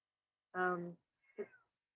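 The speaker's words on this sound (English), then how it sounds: "my cat is very meowing" A pet cat meows twice indoors, a long harmonic cry followed after a short pause by a shorter, higher call, both close and clear with no talking.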